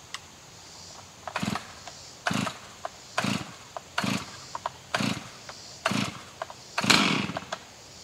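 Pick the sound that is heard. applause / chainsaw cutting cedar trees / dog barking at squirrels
chainsaw cutting cedar trees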